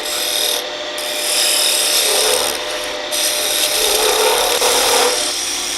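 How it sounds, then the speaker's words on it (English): Roughing gouge shaping a spinning wood blank on a lathe, a loud continuous close rasping scrape that swells and eases as the cut moves along the piece. "You can use the roughing gouge to shape the entire body"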